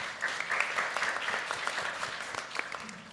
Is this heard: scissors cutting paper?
no